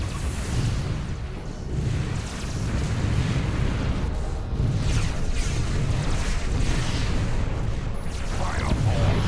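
Spaceship guns fire in the Sword of the Stars space battle game, heavy rumbling booms and blasts rolling on continuously, with voices heard over the barrage.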